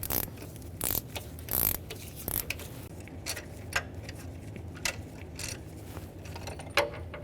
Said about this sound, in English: slide it right down in that chamber, feel it grab that spark plug, and counterclockwise back that out